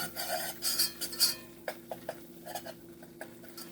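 Metal whisk stirring a roux of flour, fat and chopped garlic in a nonstick pan, giving a run of quick, light scraping and clinking strokes close by with no voices.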